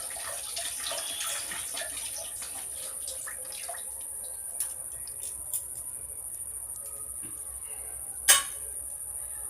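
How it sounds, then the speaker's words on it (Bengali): Tap water runs steadily into a kitchen basin while hands are washed, a faint continuous hiss with a few small splashes and one sharp clink near the end; no one speaks. "ওই দেখো বেসিনে আবার হাত ধুচ্ছি"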